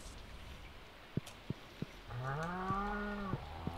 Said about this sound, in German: Und wir gehen nochmal zu unseren Kühen.